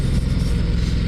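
A Ducati XDiavel motorcycle with its standard exhaust runs close and loud, a deep, steady engine rumble with a thick low throb that holds for about a second.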